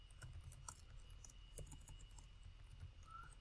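Quiet clicking keystrokes on a computer keyboard, a few scattered taps over a steady low background hum.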